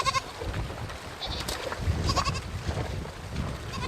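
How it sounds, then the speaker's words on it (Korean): A frightened young goat bleats at a river crossing during a Mongolian nomadic herd migration, with several wavering cries rising over a noisy outdoor background of rushing water and other livestock. "겁에 질린 새끼 염소 한 마리가 남았습니다."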